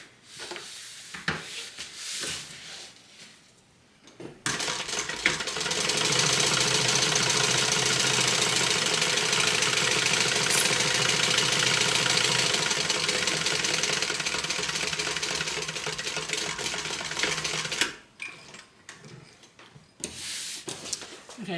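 A sewing machine stitches a seam point to point on a quilted water bottle tote, a sustained steady hum of about thirteen seconds, with a voice talking before and after it.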